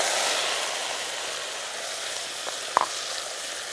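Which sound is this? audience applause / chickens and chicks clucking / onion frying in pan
onion frying in pan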